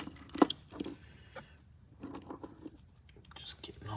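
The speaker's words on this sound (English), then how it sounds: "Just getting all of our screws situated here." Small metal carburetor screws for a Holley 4150 vacuum-secondary double pumper on a 1958 Ford F100, handled on a workbench: a bright clinking cluster near the start, then scattered soft metallic taps and rustles under quiet background noise.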